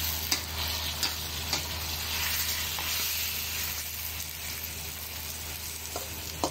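Chicken curry simmering in a pan, a steady close sizzle and bubbling hiss with a few sharp ticks and clicks spaced through it.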